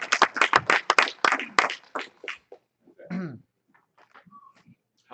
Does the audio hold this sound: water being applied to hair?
no